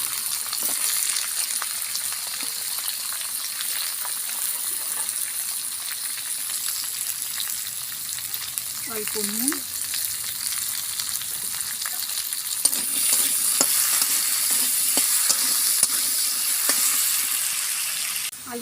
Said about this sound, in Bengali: কড়াই তেল দিয়ে দিয়েছি, এবার আমি আলুগুলো ভালো করে ভেজে নেব।